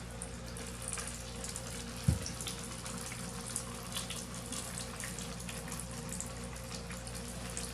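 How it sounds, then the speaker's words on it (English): Water pours steadily and softly onto an indoor potted plant, trickling and splashing as it soaks into the soil, with one small knock partway through. "water is running clearly through the soil"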